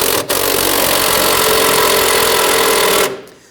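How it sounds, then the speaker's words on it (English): A power tool whirs loudly and steadily for about three seconds after a brief start-up, then winds down and stops, during transmission mount replacement on a 2011-2015 Kia Sorento 2.4L. "Let's switch over to our power tools."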